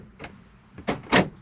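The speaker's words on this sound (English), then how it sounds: "This locks the doors including the habitation door, so it locks all three." Central locking on a 2017 Swift Freestyle SE 664 motorhome secures both cab doors and the habitation door, giving three separate mechanical clunks, the last two louder and close by, in a quiet cab.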